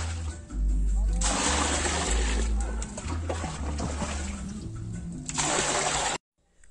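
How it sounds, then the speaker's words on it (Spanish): Water mixed with bleach is poured onto a substrate for planting pitahaya, a steady splashing and sloshing pour, fairly loud and close, running for several seconds before stopping abruptly. "Y luego vamos a agregar el agua y vamos a desinfectar."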